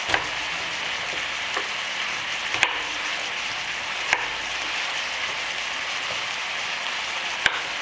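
Onion and meat fry in a pan with a steady, even sizzle that runs throughout, broken by a few sharp clicks of a utensil against the pan.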